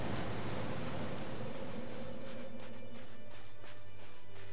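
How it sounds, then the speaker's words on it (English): Rushing water from a waterfall in the game Elex II, a loud continuous broadband wash that thins out toward the end, with a low steady hum beneath. "Sounds like a waterfall."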